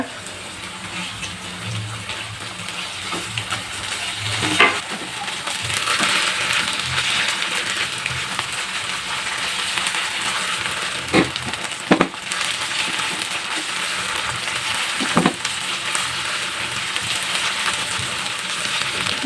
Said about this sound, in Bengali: মশলাটা একটু ভাজা ভাজা করে নেই তেলের উপরে ভেজে